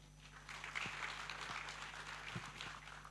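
An audience at a blockchain and AI conference in Nigeria applauds a speaker, a dense, steady patter of clapping heard from a distance over a low hum.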